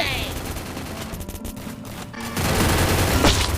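Rapid gunfire in the shooter game Free Fire: bursts of shots crackle at a moderate distance, broken by a short gap and then resuming with a loud sharp report, while players talk excitedly over it.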